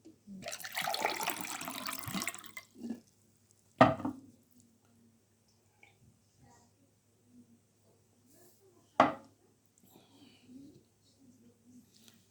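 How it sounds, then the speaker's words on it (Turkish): Someone pours and drinks water up close: a brief splashing pour, then a few quiet sips and swallows in a near-silent room. "Arkadaşlar biraz su içeyim kusura bakmayın"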